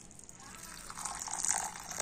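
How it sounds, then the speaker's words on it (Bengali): Boiling hot water is poured from a vessel onto washed sun-dried atap rice in a bowl. The soft, faint pour gushes and trickles for about two seconds, slowly building. "আর এবার আমি এই আতপ চালের মধ্যে দিয়ে দেব ফুটন্ত গরম জল।"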